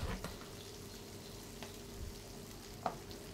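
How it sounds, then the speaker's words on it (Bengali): Chili, mustard and poppy seed paste thinned with water sizzles faintly and steadily in a wok, with a few soft clinks and pops over the low, even hiss. "এই লঙ্কা বাটা সর্ষে পোস্ত বাটার সাথে একটু জল মিশিয়ে কড়াতে দিয়ে দেবো"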